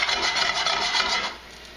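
Dry spices and juniper berries toast in a hot pan for corned beef or pastrami, giving a close, steady raspy sizzling hiss that fades out near the end.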